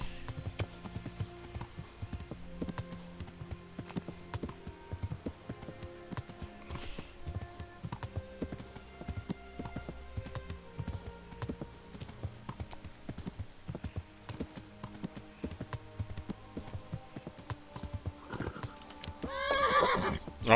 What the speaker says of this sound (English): Calm your horsey tits, Pebbles.